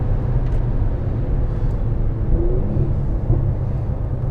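A Mercedes-AMG C 43 4MATIC drives in Sport Plus mode, heard as a continuous low engine and road rumble from inside the car, with no sharp revs.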